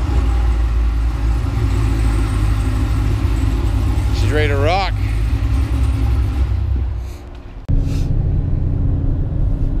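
A supercharged 2016/2017 Chevrolet Camaro SS with an A8 transmission rumbles loudly nearby, its deep engine drone steady for several seconds before briefly fading and returning. A voice speaks over the engine sound.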